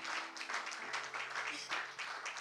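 A church congregation claps and cheers for the King of Kings during a French-language Sunday service, steady crowd applause mixed with voices throughout, moderately distant and continuous.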